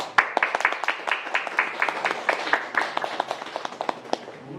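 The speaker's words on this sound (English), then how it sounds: "please welcome Jinsil with a round of applause" An audience gives a round of applause to welcome the speaker at a GIC Talk on internships: a dense, steady patter of many hands clapping at moderate distance, sustained throughout with no talking.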